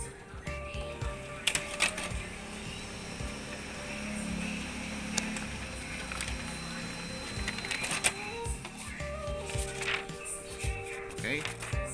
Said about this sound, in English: let's try if we can print already